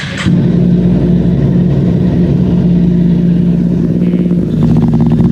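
An inline-two superbike engine runs loud and close, holding a steady, deep drone with a slight rise in revs near the end.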